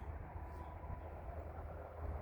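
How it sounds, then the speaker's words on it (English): A southbound CN M371 intermodal autorack freight train led by a CN SD70M-2 and a UP AC4400CW rolls past as a steady low rumble and drone with a faint whine above it, heard alone. "I don't know what took that train so long."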